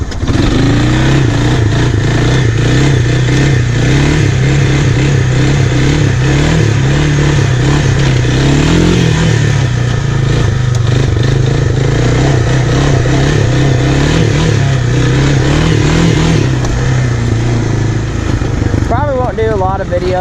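A Honda 300 Fourtrax four-wheeler ATV drones loudly and close up on an easy ride, with the engine note rising and falling slightly as the throttle shifts.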